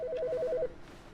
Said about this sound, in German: Hey, jetzt klingelt ein Telefon.